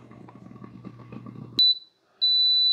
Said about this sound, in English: it does beep at us right about the 4 minute mark to let us know that it's done